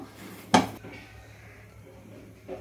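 A kadai pan set down on a kitchen stove, giving one sharp metallic clank near the mic, followed by a faint low hum and a soft clink at the end.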